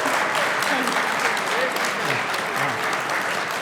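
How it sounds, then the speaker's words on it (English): Sustained applause from a convention audience following a Hearthstone game panel, steady and dense clapping across the whole stretch with no pause. "let's give a big round of applause to our awesome Hearthstone"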